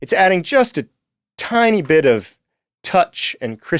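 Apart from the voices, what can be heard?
No everyday noise stands out behind the speech.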